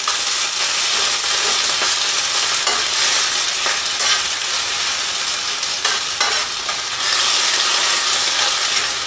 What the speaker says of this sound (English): we finish up and caramelize these onions